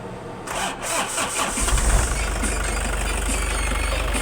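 A Toyota HiAce van with low power cranks and starts, then settles into a loud, steady, close engine idle with a rough, knocking low rumble.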